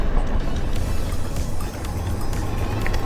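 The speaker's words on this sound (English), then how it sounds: "So that's full throttle." A go kart bought from Amazon runs at full throttle across snow, its engine a loud, steady low roar with rushing wind and rumble up close.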